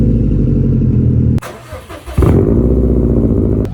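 A Subaru WRX with a Tomei Expreme Ti titanium exhaust cranks over and catches, its loud, close idle rumble dipping briefly during the start before settling into a deep, steady drone.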